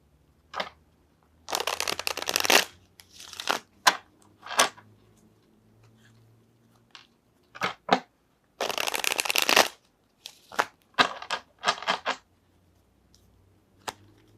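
A tarot deck is shuffled and cards are drawn: short bursts of riffling and crisp card flicks, close and fairly loud, separated by near-silent pauses.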